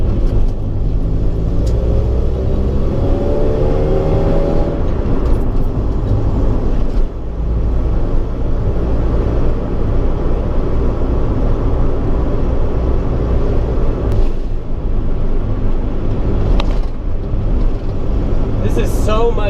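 A 1990 Honda Civic DX fitted with coilovers rolls over a rough, broken road, its steady low cabin rumble thick with bumps and road noise, loud and continuous throughout.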